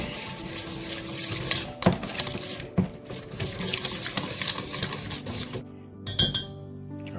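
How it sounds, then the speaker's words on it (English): Homemade Chick-fil-A style sauce is whisked in a bowl, making rapid, rhythmic scraping and tapping close by, with a few sharper knocks and a brief pause near the end. "now we're going to whisk this all up"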